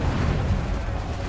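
Cannon fire from Assassin's Creed III as a dense low rumbling roar that fills the whole brief moment, loud and booming with no distinct separate shots.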